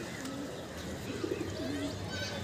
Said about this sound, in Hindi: गाइस कबूतर देखिए